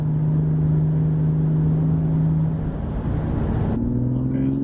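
A BMW M2's engine drones steadily under acceleration, then the pitch drops sharply as it shifts up from fourth to fifth gear and the engine pulls on, heard from inside the car with someone talking over it.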